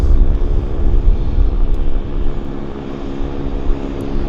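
An Air Canada airliner taxis onto the active runway at Vancouver airport, its engines producing a loud, steady whine and broadband roar close by, with no talk.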